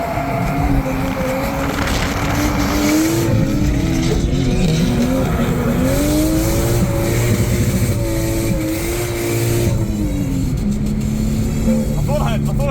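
A Toyota JZX110 drifts at Calder Park, its engine wailing and rising in pitch as tyres squeal and hiss through the slide, loud and close, with voices shouting over the noise.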